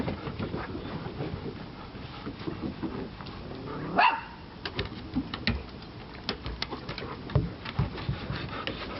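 A Golden Retriever barks a few times amid rubbing and knocking sounds, with no one talking.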